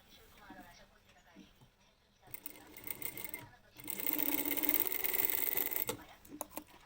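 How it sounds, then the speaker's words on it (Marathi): A sewing machine stitches a tuck in fabric in short bursts, with a loud sustained run near the middle and quick start-stop whirring. Someone talks around the stitching. "हा टक्स मारून घ्यायचा अगोदर."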